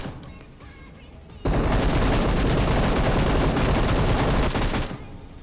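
A sustained burst of automatic gunfire in the mobile game PUBG Mobile, loud and rapid, erupting abruptly after a quieter stretch and cutting off just before the end.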